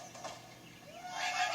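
A cartoon bird is flung in Angry Birds on a Kindle Fire, giving a short squawking cry that swells near the end over faint game background sound.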